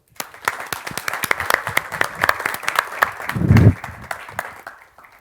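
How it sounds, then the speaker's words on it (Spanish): A crowd claps at a security conference just before the first talk, a dense spread of individual hand claps that swells, peaks briefly with a low thump, then thins out and fades. "Disfruten de la primera charla. Un aplauso."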